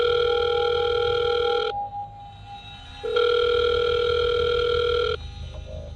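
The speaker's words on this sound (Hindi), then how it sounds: "पॉकेट में रखा उसका फोन दोबारा बजा" A mobile phone rings with a steady electronic tone in two long bursts separated by a brief gap, loud and close, with no voices.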